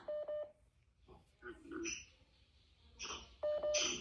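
A phone on an incoming call gives off short tonal beeps and ring tones in separate bursts near the start and end, with quiet gaps and faint voices between them.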